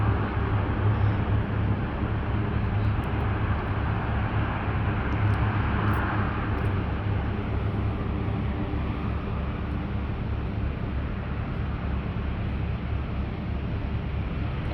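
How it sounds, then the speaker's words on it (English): Military C-130 airplane at Fort Bragg, a loud continuous low roar of turboprop engines heard from a distance, steady throughout with wind buffeting the microphone. "It's a very big C-130."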